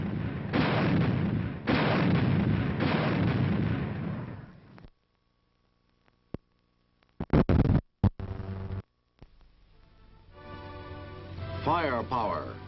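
Anti-aircraft artillery gun firing in a few sharp, loud bursts, separated by silence, after a stretch of narration and followed by quieter talk.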